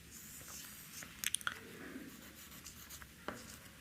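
Chalk or marker strokes writing a sentence on a board during a Hindi-language grammar lesson, a few short scratchy strokes in a quiet room, faint and close.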